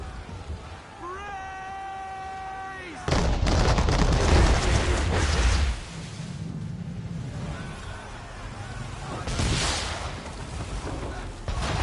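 Swivel gun and cannon fire at sea aboard a ship in Assassin's Creed 3, a heavy booming burst of gunfire lasting a few seconds, then a rumbling tail under game music with tonal synth lines and a later second blast.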